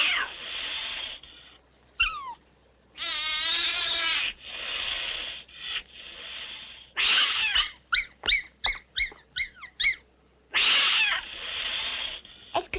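A cat meows loudly and repeatedly, with long drawn-out cries and a quick run of short yowls in between.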